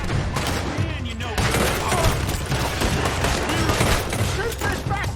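Dense gunfire in a Red Dead Redemption 2 shootout against raiders, with rapid overlapping shots and booms at close range, mixed with shouting voices.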